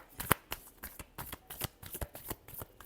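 Tarot cards being shuffled by hand, a quick run of crisp riffling snaps and soft slaps, close and clear, with no talking over it.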